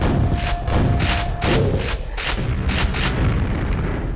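Repeated deep booming blasts from rockets in Quake, a series of heavy rhythmic thuds about every half second, loud and close with no talk.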